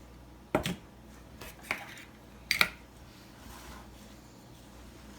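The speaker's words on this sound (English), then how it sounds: "Then you're gonna mix in your eggs and vanilla mixture." A utensil stirs eggs and vanilla into thick, clumpy chocolate batter in a bowl, giving a few scattered clinks and wet scrapes with quiet pauses between them.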